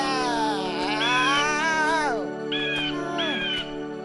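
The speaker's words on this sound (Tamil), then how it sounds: "மியாவ்." A cartoon cat lets out several drawn-out, wavering meows, close and loud, followed by two shorter high mews, in a Tamil animated tale.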